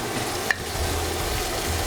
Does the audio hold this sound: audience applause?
no